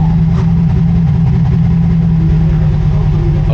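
A truck engine idles steadily with a deep, continuous low rumble, close and unchanging throughout, with no voices over it.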